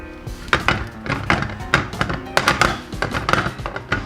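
Uneven-bottomed pan rocking and knocking against a stovetop while spinach cooks in melted butter, a series of irregular hollow thunks, close and moderately loud, with faint voice in the background.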